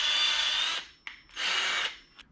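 A handheld power drill boring into wood, run in two sustained, close, whining bursts separated by a short pause with a small clack, with no talking.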